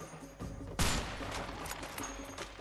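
Gunfire in the co-op video game A Way Out, a scene echoing Metal Gear Solid: one loud sharp shot rings out at close range over a steady background of game ambience and fainter distant crackles.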